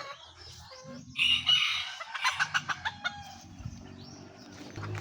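Chickens cluck and a rooster crows on a backyard farm, one drawn-out crow followed by a run of rhythmic clucks, moderately close over a quiet rural background.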